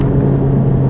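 A Buick Verano sedan accelerating hard toward 60 mph, a loud, close, steady engine drone with a strong low hum through the brief burst.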